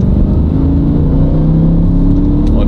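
Close, loud drone of a high-mileage Audi RS4 B7 V8 cruising at around 2500 rpm, a steady deep engine tone with no pause and no talk.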